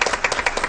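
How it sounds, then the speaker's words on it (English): A short burst of clapping at a school board meeting, quick uneven hand claps fairly close, like brief applause from a small group. "Let's give her a round of applause."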